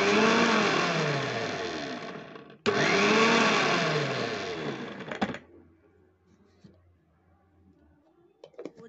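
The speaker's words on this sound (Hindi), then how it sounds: "इसको हम लोग एक बार मिक्सी में चला लेते हैं एक बार के लिए।" Loud electric mixer grinder blending a lemon mixture at full speed in two long runs with a brief stop between, then switching off into quiet clatter.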